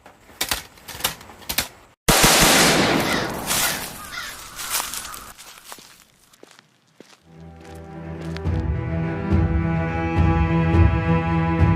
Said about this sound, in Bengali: গার্ড এবার ফায়ার করবে, ফায়ার।